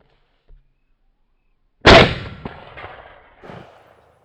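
A TriStar Viper G2 .410 shotgun fires once at a hand-thrown clay pigeon: a single loud, sharp blast outdoors with a ringing tail and a few fading echoes, preceded by a faint click.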